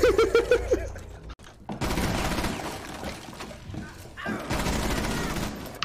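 Rapid gunfire bursts in an online multiplayer video game, loud and dense, with sustained volleys and brief pauses between them, mixed with game music and effects.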